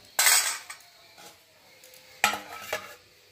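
A lid goes onto a pot of pea curry with a sharp metallic clatter, then a smaller clink follows and a second clatter as it settles. The sounds are close and alone, with a soft simmer underneath.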